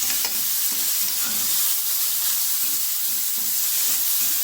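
Steak searing on a hot griddle, hibachi steakhouse style, giving a steady, loud broadband sizzle with occasional stirring or scraping, close up and without talk throughout.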